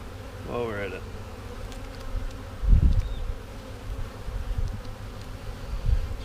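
Honeybees hum in a low, continuous drone at an open hive in an apiary during a brood frame inspection, with a faint bird call and soft handling thumps over the buzz.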